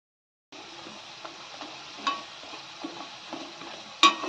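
Rose-shaped snacks made from semolina, wheat flour and gram flour deep-fry in hot oil, giving a steady close sizzle with a few sharp crackles and pops.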